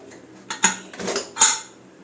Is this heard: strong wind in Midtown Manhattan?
no